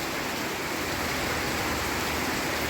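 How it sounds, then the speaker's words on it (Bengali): Heavy rain pours down in a steady, dense roar of broadband hiss, loud and unbroken throughout with no voices over it. "এখন বৃষ্টি, প্রচুর বৃষ্টি শুরু হয়ে গেল।"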